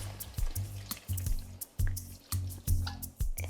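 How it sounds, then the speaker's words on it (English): Store-bought vegetable broth poured from cans into a soup pot, a close, quiet run of rhythmic glugs and splashes in short repeated bursts. "And add in our vegetable broth."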